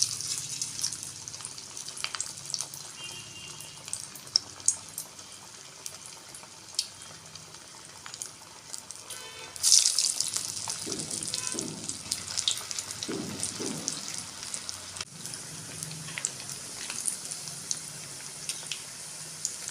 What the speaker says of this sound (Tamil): இந்த மாதிரி ஒரு உருண்டையை எடுத்து நம்ம வடை மாதிரி நல்லா தட்டி எண்ணெயில் போட்டுடலாம்